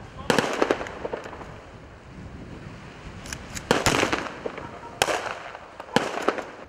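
Gunfire rings out during an anti-terrorist exercise at the Zhigulevskaya hydroelectric plant: sharp, loud shots in scattered bursts of one to three, with outdoor air noise and a voice speaking in between.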